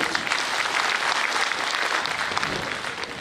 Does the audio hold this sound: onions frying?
no